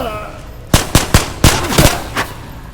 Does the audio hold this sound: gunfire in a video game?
yes